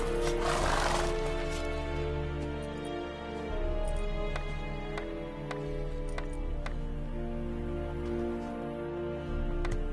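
Geralt's horse Roach from The Witcher 3, with a loud whinny near the start followed by steady clip-clop hoofbeats and layered game music or ambience underneath.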